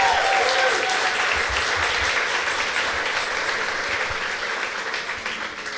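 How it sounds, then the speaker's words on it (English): Sustained applause from an audience at an evening event in Holyoke, a dense wash of many hands clapping at steady volume that tapers slightly toward the end. "Round of applause for Yulin,"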